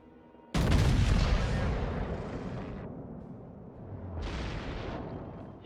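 The battleship Iowa fires a salvo of shells in World of Warships, a heavy booming blast followed by a long rumbling decay, then a second sharp report a few seconds later, loud and close with no talk.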